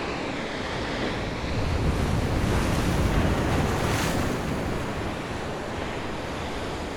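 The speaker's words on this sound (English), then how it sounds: "There is some small splashing up, nothing like the winter storms" Sea waves splash and wash steadily along the seawall beside the main railway line at Teignmouth in August, a constant broadband surf roar with wind noise and no speech.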